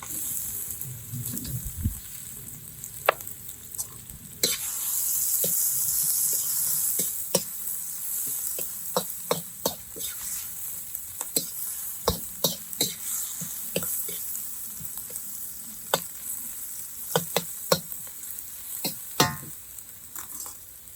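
Onion and garlic sizzle in a hot pan alongside pineapple and peppers for jerk pork fried rice, a steady fry with frequent sharp scraping and stirring clicks from a utensil.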